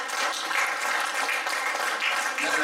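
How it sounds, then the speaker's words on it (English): A church congregation gives a sustained round of hand-clapping praise, a dense, even wash of many claps at moderate volume with no clear individual beats. "Give the Lord a hand clap of praise."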